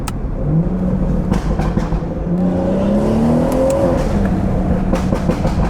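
A stage 2 tuned BMW 440i accelerates hard on a backroad, its engine note climbing steadily through the gears in a loud, continuous rising drone heard from inside the car.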